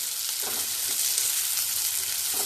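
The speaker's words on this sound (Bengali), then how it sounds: "পেঁয়াজ, তেল, কাঁচা লঙ্কা ভাজা হয়ে গেছে। আর বেগুনটা আমি আধা ভাজা করে রেখেছিলাম, এবার বেগুনটা সঙ্গে মিশিয়ে দেবো।" Onion, green chilli and half-fried eggplant frying in oil, with a continuous close hiss and faint stirring scrapes throughout, no voices.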